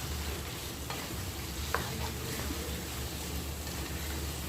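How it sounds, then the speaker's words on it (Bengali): Mutton being browned with ginger-garlic paste and onion paste in a karahi, frying with a steady loud sizzle and occasional stirring scrapes throughout, no voices. "আদা রসুন বাটা, পেঁয়াজ বাটা দিয়ে মাংসটা কষা হচ্ছে, ভালো করে একটু কষা হবে"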